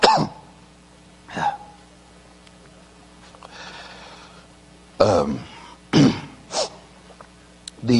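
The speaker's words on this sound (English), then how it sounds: "The doctors said the cough would go away in a few weeks." Several short, harsh throat sounds, a few coughs and throat clearings, come in separate bursts across a quiet stretch, with a faint murmur between them.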